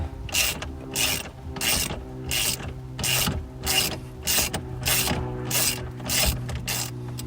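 A socket wrench with a 21mm socket and extension ratchets out the steering wheel center bolt on a Pontiac Solstice, giving a quick run of about a dozen evenly spaced close clicks over a low background hum.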